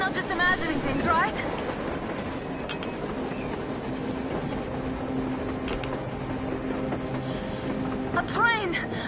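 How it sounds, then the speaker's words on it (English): A train rumbles past on the surface in the video game Metro Exodus, with a continuous low clattering roar and metallic squeals over about nine seconds, while characters' voices are mixed in. "A train! A damn train on the surface!"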